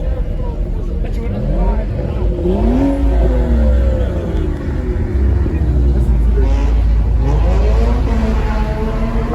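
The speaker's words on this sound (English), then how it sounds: "Oh, boy, you hear? Too many cars outside." Car engines rev and drone continuously at a busy outdoor car meet, loud and close, with a crowd talking and babbling underneath throughout.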